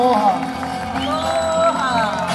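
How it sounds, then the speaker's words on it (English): Audience cheering and applauding for Miss Keiki Hula 2013 at a Hawaiian hula performance, a brief burst of crowd noise with whoops, mixed with people speaking. "Round of applause, 2013, Miss Keiki Hula"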